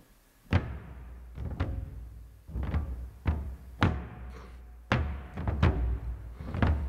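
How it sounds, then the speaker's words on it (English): Bamboo percussion from the Hans Zimmer Percussion sample library plays a sparse pattern of sharp, dry wooden hits, about eight strikes with short decays, close and clean with no talking. "in addition to the bass drum, you have the bamboos"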